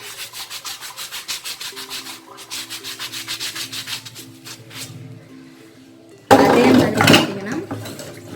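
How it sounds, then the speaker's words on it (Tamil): A new stone grinder (ammikkal/attukkal) pressed and scrubbed by hand in steady rhythmic rasping strokes, close and loud, then a sudden harsher, louder burst of grinding, with a faint tonal hum beneath and no clear talk. "இந்த கல் இந்த கல்லையும் நம்ம இப்படி அழுத்தி தேய்க்கணும்"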